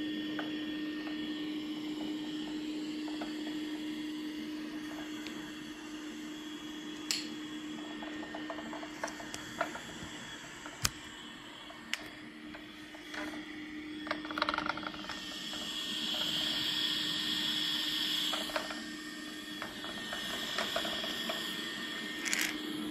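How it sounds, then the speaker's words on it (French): A Dreame X50 Ultra Complete robot vacuum mop hums steadily with a faint whine, broken by occasional clicks and soft mechanical bumps as it moves under a sofa, fairly quiet and close. "l'aspirateur laveur commence sa progression sous le canapé en abaissant d'abord son capteur"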